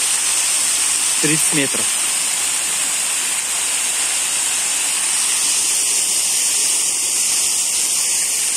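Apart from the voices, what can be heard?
water from a well pouring through a degassing rack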